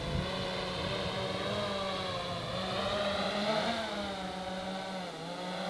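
Continuous wind gusting across an outdoor microphone, a loud steady roar that rises and dips slightly, with no talking.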